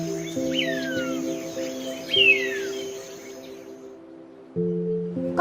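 Hawk uttering thin, descending screeches, a couple of short high cries spaced apart, fairly faint against steady background music.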